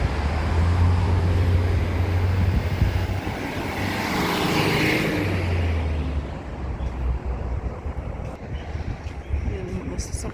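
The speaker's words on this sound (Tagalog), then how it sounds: "Ayan ang mga sasakyan." Busy street traffic with cars passing close by, a continuous loud roar that swells and fades as vehicles go past, then settles into a lower rumble with lighter passing sounds.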